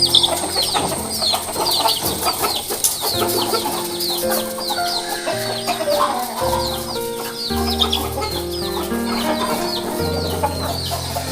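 Chickens cluck and chatter steadily in a spacious backyard coop as it is opened, with close, overlapping calls and a faint crow. Music runs underneath.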